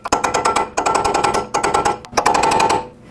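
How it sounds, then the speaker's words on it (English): A hammer strikes a punch repeatedly to peen over the front axle nut on a 2009-2014 Honda Fit, giving sharp close metallic clanks in quick bursts with brief pauses between them. "take a punch and a hammer and just hammer this down right here"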